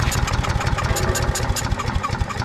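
A Viper engine on an Earthquake wood chipper runs briefly on gas squirted into its carburetor, a close, loud, steady rapid chugging drone with no voices.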